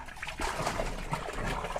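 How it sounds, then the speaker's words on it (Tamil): Water pours steadily from the outlet of a battery-powered 12V solar pump, giving a continuous trickling, splashing rush at close range with no talking. "தண்ணி ஊற்றுறது உங்களுக்கு தெரியும் பார்த்தீங்கன்னா."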